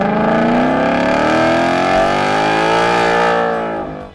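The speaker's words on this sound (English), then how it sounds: "That deep V8 rumble in some cars, part exhaust, part technology." A V8 car with a Corsa performance exhaust rumbles loudly and revs, its deep harmonic tone rising steadily before cutting off near the end, with no voices.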